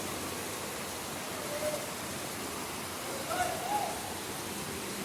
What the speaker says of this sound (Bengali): দেখুন বৃষ্টি